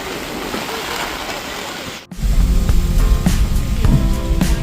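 Heavy monsoon rain with strong wind lashes Marine Drive in Mumbai, a dense, steady roaring wash close to the mic that dips out briefly, then returns louder and fuller.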